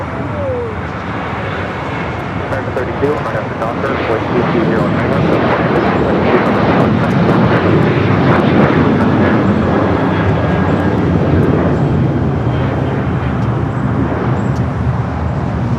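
A Japan Airlines jet arriving at LAX from Tokyo Haneda makes a loud roar that swells after the first few seconds and holds steady, with a faint hiss riding on top.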